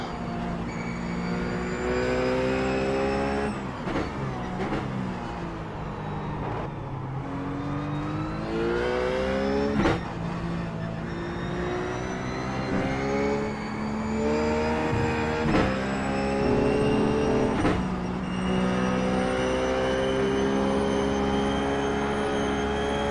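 Ruf GT3 race car engine in iRacing at Phillip Island, a steady loud drone rising and falling through gear changes and corners, with brief shifts punctuating the continuous roar.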